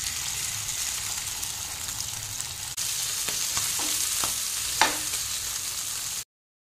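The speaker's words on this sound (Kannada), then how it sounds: "ಇವಾಗ ನೋಡಿ ಮೊಟ್ಟೆಯನ್ನು ಕೂಡ ಫ್ರೈ ಮಾಡಲಿಕ್ಕೆ ಹಾಕ್ತೇನೆ." An egg fries in a hot pan with a steady, close sizzle, broken by a few sharp pops and crackles of spattering oil.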